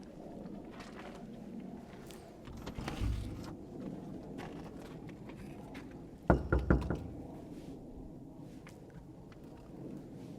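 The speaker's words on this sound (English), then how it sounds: "Knock, knock." Two bursts of knocking on the old door of a bunkhouse, a dull thud followed by a quick cluster of sharp raps, heard alone against quiet outdoor ambience.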